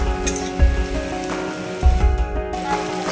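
Spice paste with ground ginger and black cumin fries in a pan for a fish curry with potato and pointed gourd, giving a dense, even crackle like rain with a couple of louder bumps.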